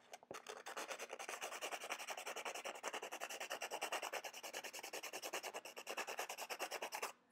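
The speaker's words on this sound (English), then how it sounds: "If I reach down, I actually have some sandpaper here." Sandpaper rubbed briskly against a graphite pencil point, a rapid, even rasping scratch repeated in quick strokes, close and fairly quiet with no voices.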